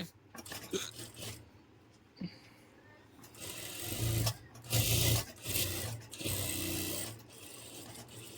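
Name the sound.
sewing machine stitching a patiala pajama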